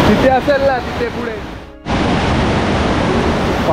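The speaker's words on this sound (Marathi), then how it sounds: "आता बघू शकता कसला भारी वॉटरफॉल आहे." Sawatkada waterfall in Konkan's Rajapur area pours with heavy monsoon flow as a loud, steady roar of rushing water. Someone speaks over it early on, then the dense, broadband rush continues alone, close and unbroken.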